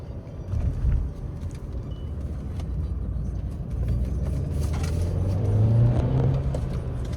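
A Mercedes-Benz C300 engine and exhaust while being driven hard, a steady low rumble from inside the car that swells into a rising rev toward the end, with no talking.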